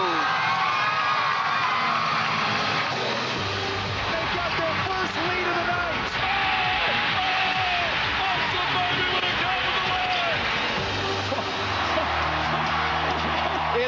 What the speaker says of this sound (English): It's another sellout crowd at the Dean Dome